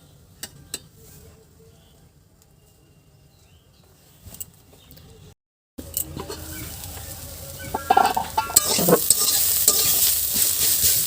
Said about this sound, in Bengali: শাকটা প্রায় ভাজা হয়ে গেছে, তো আরও একটু ভাজা হবে।